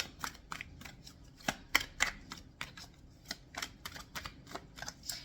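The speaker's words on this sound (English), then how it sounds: "I want to take this moment while I'm shuffling" Tarot cards being shuffled by hand, a quick run of crisp riffling snaps and soft slides in an irregular rhythm, close and fairly quiet, with no talking.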